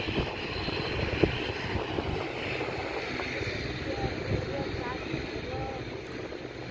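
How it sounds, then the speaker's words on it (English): A fixed-wing airplane at London City Airport, taking off with a steady broad engine roar that holds at moderate loudness across the whole stretch, with mild wind noise and no one talking. "then the other plane can make its way to lifting off."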